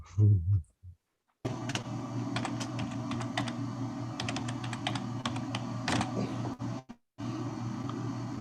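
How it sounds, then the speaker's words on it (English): Rapid clattery typing on an old computer keyboard, a steady run of close, sharp keystrokes with a few brief pauses, after a short burst of voice at the start. "Did you buy that keyboard in like 1978 there, Woody Woodpecker?"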